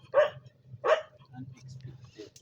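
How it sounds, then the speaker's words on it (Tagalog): A dog barks twice in quick succession, loud and close, at a riverside fishing spot, with a steady low hum underneath and faint movement sounds after the barks. "Hindi makasaya kasi yung aso ang ingay."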